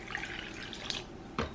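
Water poured into vegan chocolate cake batter, a soft steady liquid stream with a brief louder splash near the end, faint and close.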